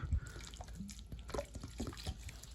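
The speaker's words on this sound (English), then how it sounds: "then we're going to nicely water it in" Water poured onto the soil around a newly planted banana plant, with faint trickling, dripping and splashing coming in small irregular bursts.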